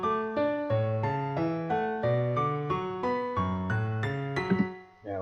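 The melody of Canon in D, with some notes moved up an octave, played as a sequence in FL Studio: a steady run of bright synthesized notes in an even pulse that ends in a brief clatter and a drop to near silence.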